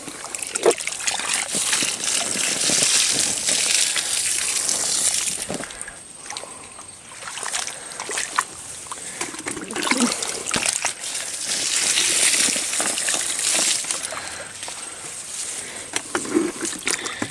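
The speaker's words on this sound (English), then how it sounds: "I'm just giving them a splash here on my way down" Water splashes and sloshes onto corn plants at the edge of an Azolla pit in uneven bursts of spray and trickling, fairly close, with faint background noise and no talk.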